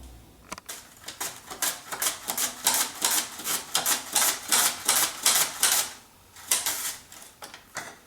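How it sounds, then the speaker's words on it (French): An onion sliced on a mandoline for a vegan quiche lorraine, giving a steady run of crisp, rhythmic rasping strokes close by, each pass a sharp burst, with a short pause partway before the strokes resume. "Je vais maintenant couper mon oignon et pour cela, je vais utiliser une mandoline."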